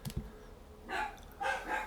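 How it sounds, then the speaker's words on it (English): A dog barking somewhere outside an open door while someone works at a hobby bench: two faint, distant bursts of barking, separated by a short pause. "hear my dog's barking there?"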